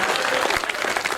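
Audience applause at a Hindi poetry recital in Kharir Road, Odisha, a dense, steady burst of many hands clapping that fills the short moment without a break.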